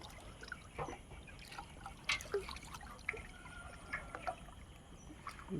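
Katla fish, over a kilogram each, being tipped into pond water, with irregular splashes and trickling water outdoors at a moderate distance, and no voices.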